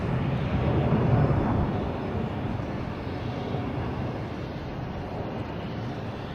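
A jet airplane roars at Boston Logan airport, a broad, rumbling engine noise that swells early and then settles into a steadier, somewhat distant drone with light wind noise.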